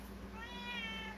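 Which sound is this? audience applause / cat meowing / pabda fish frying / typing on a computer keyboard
cat meowing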